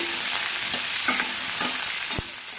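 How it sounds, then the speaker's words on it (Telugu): Chopped onions frying in hot oil in a pan for a Tamil Nadu hotel-style tomato chutney, a steady close sizzle with a few light stirring scrapes, no talking. "కట్ చేసి పెట్టుకున్న ఈ ఉల్లిపాయ ముక్కలు వేసుకోవాలి"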